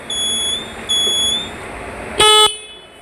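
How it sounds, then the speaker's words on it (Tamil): A small XL100 two-wheeler's horn, with an electrical fault affecting horn and indicators, beeps in short bursts, two brief electronic tones followed by a louder, harsher honk near the end. "ஆரன் அடிப்பா"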